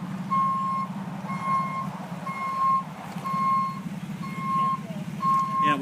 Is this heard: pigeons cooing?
no